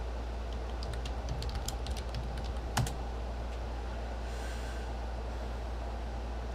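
Someone types a search on a computer keyboard, a quick run of soft clicks and clacks early on ending in one sharper keystroke, then quiet room hum.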